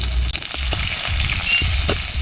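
Chopped onion fries in hot mustard oil with bay leaves, dried red chillies and five-spice seasoning, producing a dense, close sizzle with several short scraping stirs against the pan.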